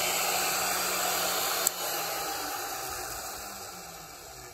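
An electric router motor runs at reduced speed with a steady whirring hiss, a brief click partway through, then the drone continues and slowly fades slightly, no talking.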